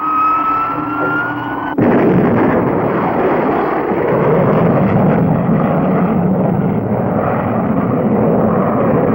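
A cartoon rocket ship, the Starduster, blasts off: a thin tone gives way to a sudden, loud, steady roar that keeps rumbling unbroken to the end.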